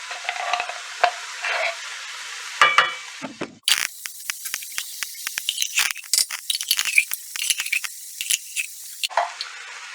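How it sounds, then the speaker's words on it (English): A spoon stirs cream of mushroom soup into cooked hamburger meat in a hot pan, giving close, wet scraping and stirring noises with sizzling and light rattles, loud and alone. "And I like to stir that in and get that heating"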